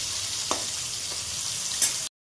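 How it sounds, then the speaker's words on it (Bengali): Small chapila fish fry crisp in hot oil, giving a steady sizzle with a couple of brief clicks or stirs before it cuts off abruptly. No one speaks. "ছোট মাছগুলি কড়া করে ভাজবো, ভেজে উঠিয়ে তারপর ঝোলা মাছগুলি ভাজবো।"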